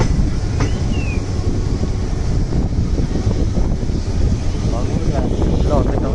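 Passenger train rolling from Sakleshpura to Mangalore, a steady loud rumble and rattle of the carriages with wind buffeting throughout, faint voices mixed under the running noise.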